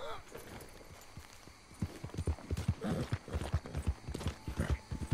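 A horse in the video game Red Dead Redemption 2 clip-clops along with rhythmic hoofbeats that grow louder and steadier partway through, while a person talks over it.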